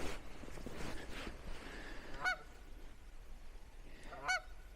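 Geese honk back and forth at a distance by a Cape Cod beach, two sharp calls standing out over quiet outdoor ambience.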